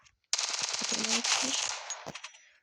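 Rapid automatic gunfire rattles out in a video game shooter, a sharp sudden burst that continues for about two seconds and then trails off into a few scattered shots.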